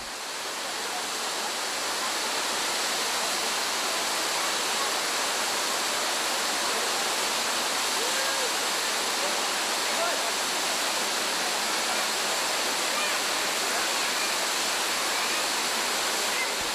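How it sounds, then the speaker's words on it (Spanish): A waterfall in Jordan pours into a natural rock pool, giving a loud, steady, close-up roar of cascading water that holds unbroken throughout with no voices. "En la segunda cascada, la formación de una piscina natural favorece el baño, aunque mejor podríamos decir ducha."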